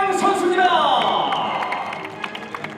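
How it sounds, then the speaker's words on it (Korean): A crowd applauds and cheers for a baseball monthly MVP award winner at a stadium ceremony. The clapping swells under an announcer's voice, then thins into scattered claps. "축하의 박수 보내주시기 바랍니다"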